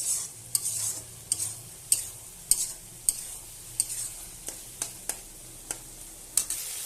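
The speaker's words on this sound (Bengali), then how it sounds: "এভাবেই এবার কষাবো আমি ভালোভাবে মাছটা" Prawns are stir-fried in a pan for a pointed gourd and prawn curry: a spatula scrapes the pan in regular strokes about every half second over a soft, steady sizzle, close and clear.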